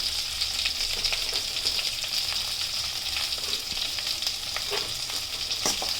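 Urad dal, cumin, coriander seeds and garlic fry in a pan for a nalleru chutney, giving a steady, close, continuous sizzle with occasional light crackles and stirring scrapes, with no talking.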